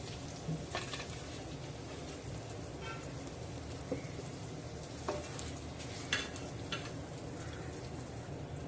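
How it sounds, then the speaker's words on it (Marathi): Prawns roast in ghee in a pan on low flame, giving a soft, steady sizzle and crackle with a few faint clinks of stirring. "तर तुम्ही बघू शकता प्रॉन्स चांगले रोस्ट होत आलेले आहेत"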